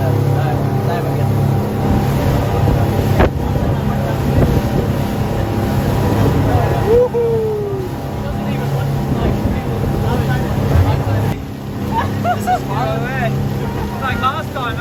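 Strong wind buffets the microphone in a constant roar over a running boat engine at a surf contest in Fiji, with voices briefly audible.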